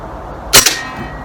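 An SMK AP900 air rifle fires a single pellet, one sharp close crack with a short ringing tail, standing alone against quiet outdoor background.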